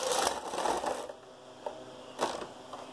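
A Knittax/KnitKing knitting machine knits two plain rows, the carriage sliding across with a loud rushing clatter, then softer clicks and a second sweep.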